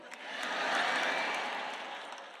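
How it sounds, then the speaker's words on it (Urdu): An audience applauds with a soft, even wash of clapping that swells slightly and then tapers off. "آئیے اتنے کم نہیں بلکہ بھرپور انداز سے تالیاں بجائیں"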